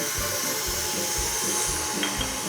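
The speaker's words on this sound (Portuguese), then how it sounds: "vou colocar o creme de leite na batedeira e vou bater ele fouetté" A stand mixer beats heavy cream to medium peaks for crème fouettée, giving a steady motor whir with a rhythmic low thump from the whisk, close and continuous.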